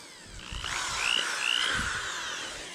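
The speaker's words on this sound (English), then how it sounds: "I got me a drill, small drill bit in it" A small power drill with a small bit bores holes through cane stalks just above a knuckle, outdoors; a steady mid-loud whine that rises in pitch as the bit cuts through, with no talking.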